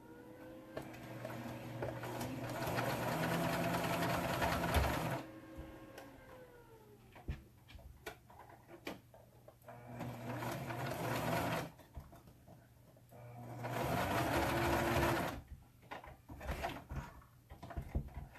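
A sewing machine sews a T-shirt dress in three runs of several seconds each, with clicks, fabric shuffling and small adjustments in the quiet gaps between them.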